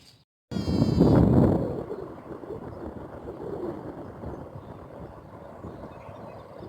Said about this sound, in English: This is a video showing you our flock of ewes. They're currently lambing outside.